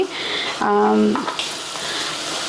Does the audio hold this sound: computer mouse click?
no